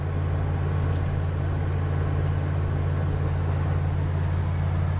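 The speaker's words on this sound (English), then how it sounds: "Truck's running good, holding up right close to 75." A wood gas powered truck cruises on the road near 75, its engine and road noise giving a steady, even low drone from inside the cab, with no talking.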